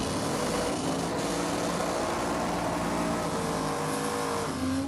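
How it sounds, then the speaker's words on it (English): A Holden Torana race car with a blown engine runs steadily on track, its engine note a loud sustained roar with drifting pitch, heard alone for several seconds. "Now we've got this Torana back out, which it's got the blown motor in it."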